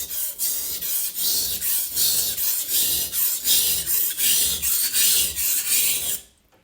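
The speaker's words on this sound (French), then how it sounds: "J'ai de nombreux couteaux à passer sur les pierres." A Japanese kitchen knife scrapes back and forth on a wet whetstone set over a sink, making about a dozen loud, close, rhythmic rasping strokes before stopping abruptly.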